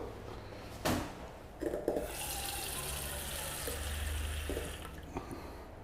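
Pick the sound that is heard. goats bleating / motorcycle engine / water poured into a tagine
water poured into a tagine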